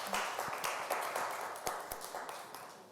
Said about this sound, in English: give a warm round of applause to Florence.